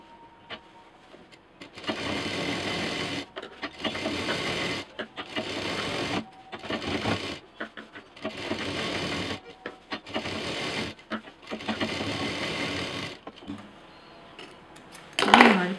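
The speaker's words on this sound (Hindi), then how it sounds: "अब हमें इसके किनारे एक महीन सिलाई चलानी है।" A sewing machine runs a fine seam along a fabric edge in several whirring bursts of rapid stitching, each a few seconds long and separated by short quiet pauses.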